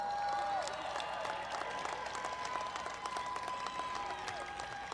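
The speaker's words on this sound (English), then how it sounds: "have you give them a big round of applause" Audience at a university freshman convocation applauding orientation leaders and residence assistants, a steady wash of clapping filling the hall for several seconds with a faint tone and scattered voices underneath.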